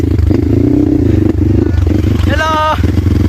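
A Honda XRM motorcycle labours up a rough mountain road, its engine droning close and loud with clattering and scraping from the rocky surface, while a rider's voice cuts in briefly near the end.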